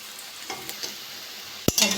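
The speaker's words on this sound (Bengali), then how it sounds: "এক সাইড ভাজা হয়ে গেছে," Jackfruit-seed paneer sizzles steadily in hot mustard oil, with faint scrapes and then a sudden loud clatter of a utensil in the pan near the end.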